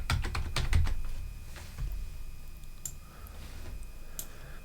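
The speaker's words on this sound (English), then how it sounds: "I'll go ahead and type in a password" A password is typed on a computer keyboard, a quick run of close, crisp key clicks at first, then sparser taps, in a quiet room.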